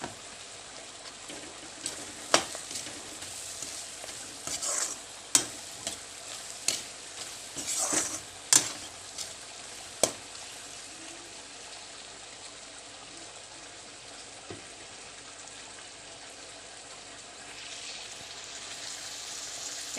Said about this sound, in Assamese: এতিয়া ইয়াতে পিঁয়াজখিনি দি দিছোঁ